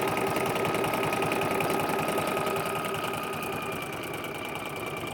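A sewing machine stitches around the edge of a simple handmade paper journal, giving a steady, close, buzzing mechanical whir with a fast, even pulse throughout.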